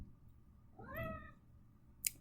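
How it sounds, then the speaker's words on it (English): A house cat in the corner of a quiet room lets out a single drawn-out meow, moderately near and soft, with a brief tap or click shortly after. "My cat's in the corner here."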